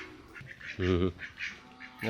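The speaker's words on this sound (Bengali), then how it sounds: "এটা তো ছেলে হাঁস" A farm-raised male duck gives a loud, harsh quack while being caught in a village yard. One strong call stands out, with shorter cries before and after, and people talk and shout around it.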